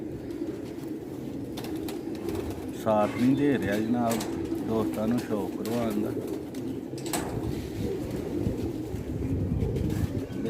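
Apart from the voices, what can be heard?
black-faced pigeons cooing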